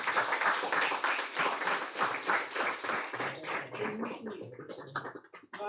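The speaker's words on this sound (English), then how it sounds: "Should we not have a round of applause for TSG and GIDM both?" Applause breaks out at the close of a disaster risk reduction workshop, scattered clapping from a modest crowd that thins out into a few last claps, with voices talking over the end.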